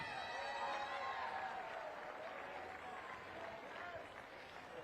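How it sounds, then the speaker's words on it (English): Crowd applause at an outdoor 3-on-3 basketball tournament, Spokane Hoopfest, greeting the second-place team: a steady, fairly distant wash of clapping and cheering that holds evenly throughout, with voices mixed into the crowd noise. "a big round of applause for our second place team today"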